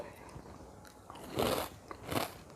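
Crisp bites into fried leftover-rice vadiyalu, Telugu sun-dried rice crisps, give two loud crunchy snaps close to the mouth, each followed by brief crackling.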